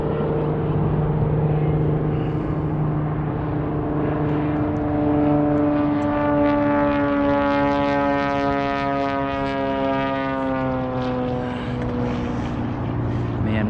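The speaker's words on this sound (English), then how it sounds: "why is there always got to be a float plane ruining the audio on my videos" Float plane drone passing overhead above a lake during kayak fly fishing for wild rainbow trout, a loud sustained propeller engine hum whose pitch shifts as it flies over, continuous for the whole stretch.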